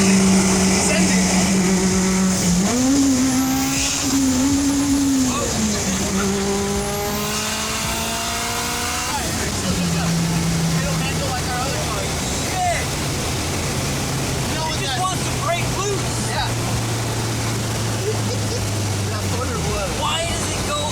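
A giveaway car accelerates hard, its engine revving high through several rising gear pulls before settling into a steady lower drone, loud and close inside the cabin, with people talking over it.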